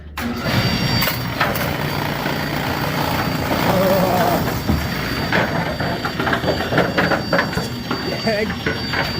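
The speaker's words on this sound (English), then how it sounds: "also the lane with the noisiest gearbox clutch in the world." A Brunswick A2 bowling pinsetter runs on a random recycle, its gearbox clutch clattering and grinding loudly in a steady, close mechanical roar with rattles and clunks throughout.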